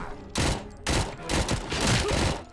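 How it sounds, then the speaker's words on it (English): Minigun emplacement firing in the RoboCop Rogue City video game, loud and close, in several dense bursts of rapid gunfire with short gaps between them. "It seems someone is using some kind of minigun emplacement."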